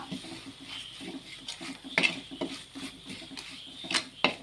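Kashmiri chili powder stirred into oil in a pan for fish curry, faint scraping and clinking of a spoon against metal with a soft sizzle beneath, close, quiet and without talk.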